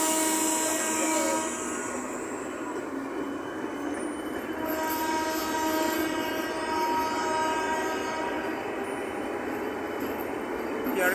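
An air-conditioned fast local train in West Bengal pulling away, a loud continuous rumble of wheels on rails with high metallic squeal and steady rolling noise throughout.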